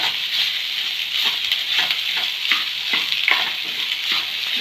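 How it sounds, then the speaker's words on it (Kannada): Mashed idli sizzles and crackles steadily in a hot pan while a spoon or spatula scrapes and stirs it in short, repeated strokes. "ಇಡ್ಲಿದು ಪೂರ್ತಿ ಸ್ಮ್ಯಾಶ್ ಮಾಡ್ಕೊಂಡಿರೋದು ಫಸ್ಟು ಒಳಗೆ ಹಾಕಿ ಫ್ರೈ ಮಾಡೋದು"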